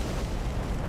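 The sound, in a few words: Sacred Flame spell explosion in Dark Souls 3 video game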